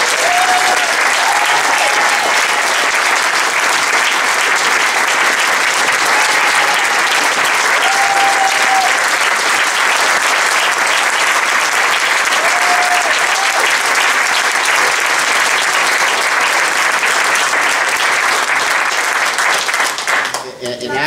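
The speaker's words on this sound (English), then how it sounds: "I just hope you're joining me in a round of applause for Congressman." A large audience applauds at a congressional sit-in demanding gun safety laws, dense and loud continuous clapping sustained for about twenty seconds before dropping off at the very end.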